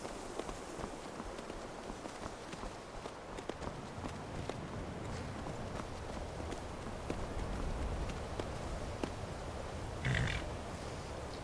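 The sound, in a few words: horse hooves in video game Skyrim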